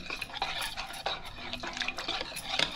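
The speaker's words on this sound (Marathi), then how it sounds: "आता हे व्यवस्थित असं मिक्स करून घेऊया" An egg and potato batter is mixed in a bowl, with a spoon scraping and stirring and small clinks against the dish, steady and close, with no talking.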